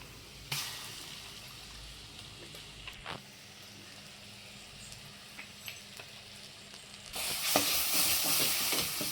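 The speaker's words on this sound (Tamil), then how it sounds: "இந்த எண்ணெயிலே போட்டு ஒரு ரெண்டு நிமிஷம் இந்த மிளகாத்தூள் நல்லா போகிற மாதிரி வதக்கி எடுத்துக்கோங்க" Chili powder and ground paste sauté in oil for a pepper-dry-ginger kuzhambu, a low, steady sizzle under occasional stirring scrapes that swells louder near the end.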